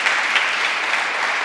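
Audience applause in a church service, a dense steady wash of clapping that holds evenly loud from start to finish.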